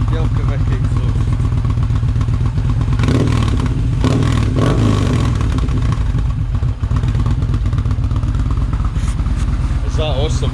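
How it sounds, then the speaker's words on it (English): A Yamaha XV950 Bolt motorcycle fitted with a Delkevic exhaust runs loud and close, its engine rumbling steadily with a couple of brief revs and some mechanical clatter. "Yeah, that's Delcovic exhaust"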